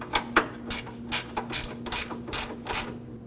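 A ratchet clicks in short, quick strokes while tightening a 10mm bolt on the AC condenser cooling fan assembly of a 2014-2020 Acura MDX, giving about eight close, crisp bursts in a steady rhythm.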